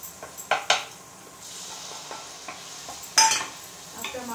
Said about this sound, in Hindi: जब तक हमारा अदरक लहसुन भून रहा है हम टमाटर भी डाल देंगे इसके बाद।